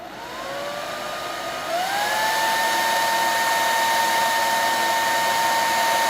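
A hair dryer blows steadily and loudly with a high whine, its pitch stepping up partway through as it speeds up, then holding.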